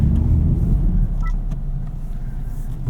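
An FL5 Honda Civic Type R pulling away in winter, its engine a deep, steady rumble close by that eases slightly after the first second, with no voices.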